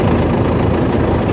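A tractor engine runs steadily while pulling a trailer that still has its handbrake on, a loud, continuous low rumble close by with no talk over it.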